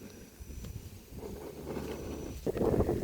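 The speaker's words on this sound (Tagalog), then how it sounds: "Mahangin eh." Gusty wind by a river buffets the microphone with low, irregular rumbling that swells louder toward the end.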